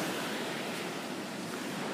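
Sea surf washes onto the shore at Sudak, Crimea, in the off-season, a steady, dense hiss of breaking water close by with some wind and no voices.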